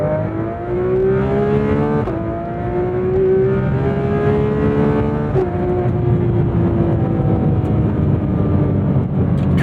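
A Porsche engine, a 718 Spyder RS or 911 991.2 GT3 RS, revs hard toward 9,000 rpm, loud and close, with a rising howl that climbs through each gear, dips at the shifts and climbs again.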